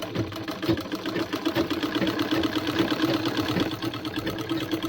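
A household sewing machine runs steadily, stitching cloth after a repair, with a fast rhythmic mechanical whirr and clatter close up and no talking.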